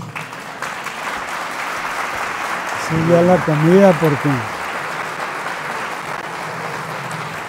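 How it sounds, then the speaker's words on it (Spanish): Steady audience applause after a lecture on the devil in the Church Fathers, a broad even wash of clapping; a speaker's voice briefly rises over it midway. "fuertes aplausos"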